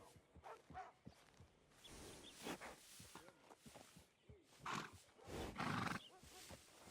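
A horse in the video game Red Dead Redemption 2 neighs and snorts in short bursts, close and clear, with a louder whinny near the end and occasional hoof sounds.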